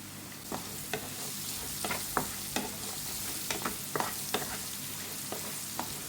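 Grated coconut roasting in a pan with salt and turmeric for a bean stir-fry, a soft low sizzle broken by repeated scraping stirs of a spatula, fairly quiet and close, no talk.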